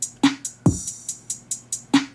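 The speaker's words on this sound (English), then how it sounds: "So now the drums sound like this with all the leveling." A leveled drum beat plays back from an MPC Live 2, with punchy kicks and snares under a steady run of crisp hi-hat ticks, moderately loud and without any voice.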